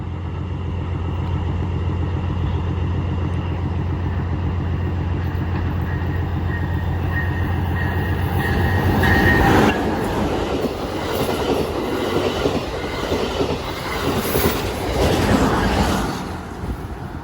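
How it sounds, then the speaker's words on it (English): An Amtrak Hiawatha 338 train passes Mayfair Metra station, a loud, steady rumble of wheels and cars that holds close for the whole stretch, with a rising rattle and faint clatter near the end. "Here's the first train of our short time at Mayfair. It's an Amtrak Hiawatha 338."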